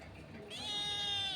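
A drawn-out cat meow used as an eerie ghost-film style effect, rising suddenly and then holding as a loud, close wail.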